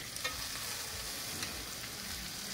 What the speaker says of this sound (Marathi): पूर्ण रोस्ट करूया आता तिला आपण, म्हणजे पूर्ण हलवून या.